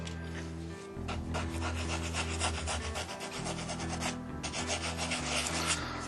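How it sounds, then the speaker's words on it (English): Steady hand sanding on a guitar build's wood, a continuous scraping texture with brief pauses, close by and fairly quiet, with no voices. "do a whole bunch of sanding"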